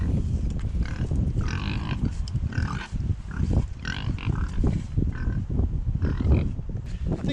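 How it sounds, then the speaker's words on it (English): Pigs at a Viking longhouse grunt and squeal repeatedly up close, a busy cluster of snorts and grunts overlapping throughout with no pause. "The reason they've come running here is that they know that people feed the pigs."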